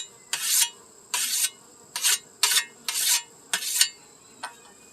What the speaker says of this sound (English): So I'm gonna sharpen it real fast